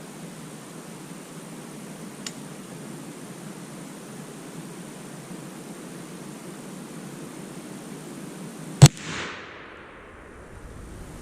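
A single sharp report from a Thompson Center Seneca .36 black powder rifle, fired outdoors against a steady background hiss, followed by a brief rushing tail that fades into quiet.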